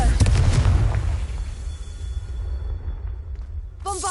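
Confringo fire-blast spell in Hogwarts Legacy: a heavy, booming explosion right at the start, rumbling and fading over several seconds, before a voice comes in briefly at the end.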